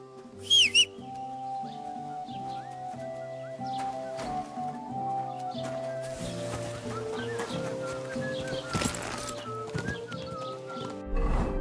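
A mare in Kingdom Come Deliverance 2 gives a brief high whinny at the start, followed by scattered hoof clops and rustling over steady medieval background music.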